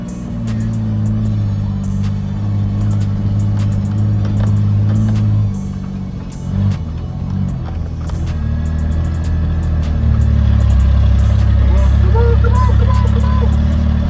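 A truck engine revs hard and loud up close, sagging and bogging at times instead of climbing cleanly, then settles into a heavier, deeper drone toward the end, with a person speaking briefly over it.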